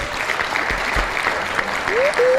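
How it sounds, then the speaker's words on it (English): A podcast studio audience claps briefly throughout, moderately close, while a voice talks over it. "Round of applause for the audience."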